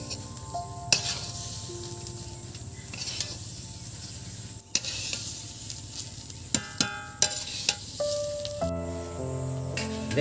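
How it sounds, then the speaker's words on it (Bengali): Rice, lentils, ginger, bay leaves and mixed spices stirred in a large, heavy wok for khichuri: a continuous close sizzle with scraping, plus sharp ringing metallic clinks from the utensil striking the pan, growing more frequent toward the end. "চাল ডাল আদা, হ্যাঁ তেজপাতা, বিভিন্ন রকম মশলা একটু হালকা নেড়ে চেড়ে নিয়েছি"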